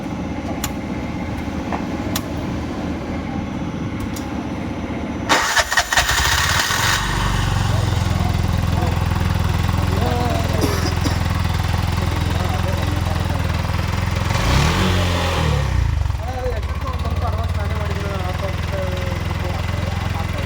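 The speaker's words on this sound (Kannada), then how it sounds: "ಸ್ಟಾರ್ಟ್ ಮಾಡು. ಎಕ್ಸ್ಲೇಟರ್ ಕೊಡಬೇಡ." A 2023 Bajaj BS6 auto rickshaw with starting trouble cranks and then catches, its engine settling into a loud, steady low idle up close, with people talking over the running motor.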